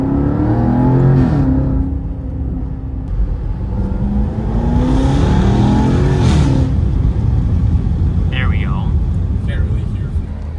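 A Jaguar XE SV Project 8 engine revs and accelerates loudly nearby, heard onboard, rising in pitch in sweeping pulls, with a person talking over it.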